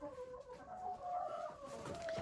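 Hens clucking and murmuring close by, a steady chatter of short calls with a few louder squawks toward the end.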